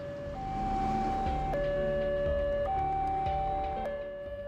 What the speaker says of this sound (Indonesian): sirine peringatan adanya kereta api yang akan melintas telah berbunyi